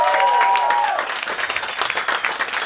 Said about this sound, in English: Come give them a round of applause.